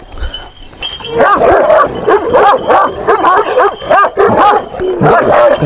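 A Kangal shepherd dog in a village livestock setting barks loudly and close, in a rapid run of repeated barks with brief gaps, after a short quiet start.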